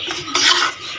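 A utensil scraping and clinking against a pan while cooked Turkish chicken is dished out, one short close metallic scrape that swells in the middle and fades, with no talk.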